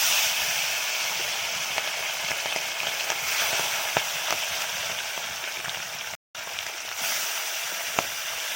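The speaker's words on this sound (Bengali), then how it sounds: "তেল গরম হয়ে গিয়েছে, এবার আমি মাছগুলোকে একটা একটা করে ছেড়ে দেব।" Pabda fish hiss and crackle as they fry in hot oil in a kadai, a dense continuous sizzle with scattered pops, broken by a brief cut of silence near the end.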